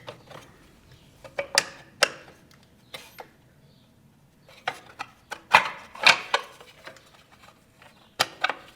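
Bolts are threaded into the gearbox of a Talaria Sting R, giving scattered metallic clicks and ratcheting ticks in irregular clusters, close and fairly quiet.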